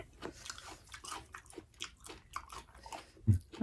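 Close, wet chewing of raw beef eaten fresh, with soft smacking bites repeating steadily and a louder crunch near the end, no talking.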